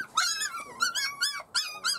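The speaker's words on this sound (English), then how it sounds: "These dogs have been illegally bred at a puppy farm." Dogs from an illegal puppy farm whimper and yip in several close, high-pitched bursts, a run of plaintive cries broken by short pauses, with no talk.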